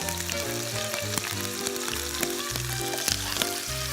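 Skin-on meat searing in a frying pan, a loud, steady sizzle and crackle running throughout with music playing underneath.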